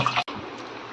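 Rice washed by hand in a pot of water, a steady close sloshing and swishing broken by one brief gap.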